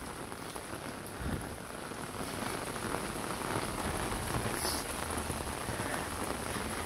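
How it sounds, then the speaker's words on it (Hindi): Steady, continuous rain pattering on a surface, an even wash of drops with no pauses throughout. "बारिश है लगातार,"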